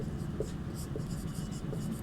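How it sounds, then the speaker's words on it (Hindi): An answer being written by hand during a Sanskrit class, heard as soft, steady pen scratching on paper close to the microphone over a low background hum. "तो यहाँ पे ग का उत्तर हम लोग लिखेंगे"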